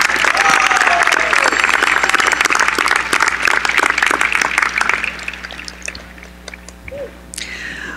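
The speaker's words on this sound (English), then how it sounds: "Please join me in giving them a well-deserved round of applause." Audience applause at a college commencement ceremony honoring the graduating class, loud and sustained for about five seconds before thinning into scattered claps and fading, with some voices mixed in.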